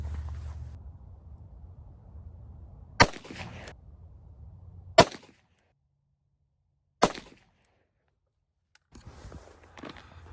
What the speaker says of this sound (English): So we're going to shoot a couple 3-shot groups with it, and then we'll shoot some steel downrange.